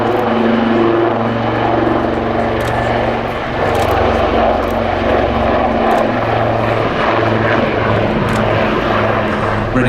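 Several Wildcat helicopters of 825 Naval Air Squadron fly in formation at the East Fortune air show, their rotors and engines making a loud, steady, throbbing drone that stays close and continuous.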